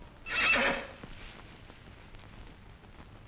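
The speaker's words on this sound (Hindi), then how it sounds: "आजकल का घोड़ा है ना बेईमान में आदमी से चार कदम आगे भागता है" A horse gives one loud, close whinny that rises and fades within about a second, followed by faint hoof and ambient sounds.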